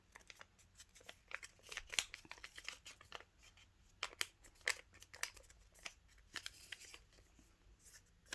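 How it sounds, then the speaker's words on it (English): Paper being folded and creased into an origami Yoda ear, faint close-up crinkling and sharp rustles in irregular bursts, with no talking. "take this and fold it into a triangle like that."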